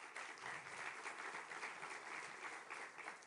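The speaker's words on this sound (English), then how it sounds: "Je vous propose qu'on les applaudisse une nouvelle fois." A conference audience applauds in a dense, steady burst of clapping that holds evenly from start to finish, heard at a moderate distance with no voices over it.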